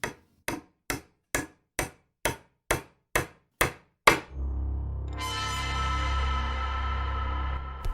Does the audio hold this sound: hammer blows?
yes